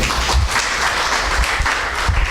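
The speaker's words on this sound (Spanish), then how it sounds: "Denle ese aplauso al Señor." Church congregation applauding together, a steady wash of clapping that holds loud and dense from start to finish with no voices over it.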